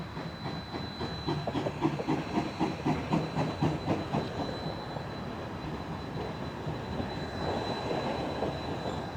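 Rio Grande Southern No.20 steam train running through snow in Durango, Colorado, with rapid rhythmic chuffing over a continuous rolling rumble that fades into a steadier roar.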